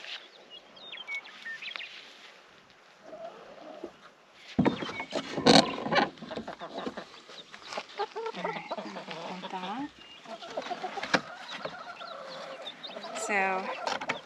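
Buff Orpington and cinnamon queen hens cluck and call in short bursts at moderate distance, with louder squawks and rustling midway, against a quiet farmyard background.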